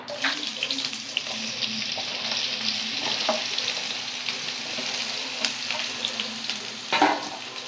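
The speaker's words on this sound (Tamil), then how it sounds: "சின்ன வெங்காயம் நாலு கேரட் ஒரு சின்ன கேரட்டு போட்டு நெய்யில் வதக்கிட்டு பிளாண்டர் பண்ணிக்கணும்" Shallots and carrot sauté in ghee with a steady sizzle, punctuated by scraping stirs and clinks throughout.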